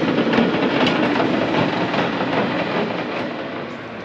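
Old San Francisco streetcars at the end of the line, with a steady, loud rolling rumble and wheel clatter filling the scene continuously, no voices.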